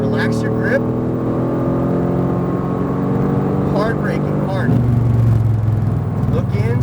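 Mercedes AMG GTR sports car on a race track: a loud, steady engine drone with rising pitch through the gears, a shift, then a deeper tone under hard braking, while an instructor talks over it.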